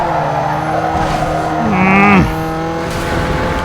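A BMW i8 racing in Need for Speed Underground 2 with a steady engine drone, a rising squeal of tires around midway, and a turbo boost into a tunnel, loud and close throughout.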